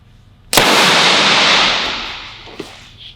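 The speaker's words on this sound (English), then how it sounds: "That fuse cutout just blew. It's extremely loud when that happens, okay? There's an explosion there." A power line fuse cutout blows open with a single sharp, extremely loud explosive crack that trails into a long hissing roar fading over about two seconds, with a faint second pop afterward.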